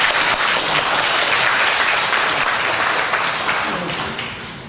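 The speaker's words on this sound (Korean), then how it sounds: "박수 한번 하겠습니다." Church congregation applauding during a worship service, a dense, loud wash of clapping that holds steady and then gradually fades toward the end.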